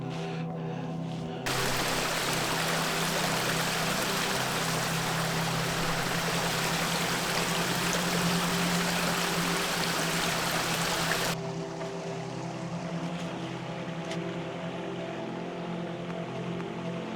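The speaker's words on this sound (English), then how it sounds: "You have the water flowing, cascading down" A stream flows and cascades over rocks on an icy winter trail through rhododendron, making a dense, steady rush of water. It is loud and close at first, then drops to a softer, more distant flow.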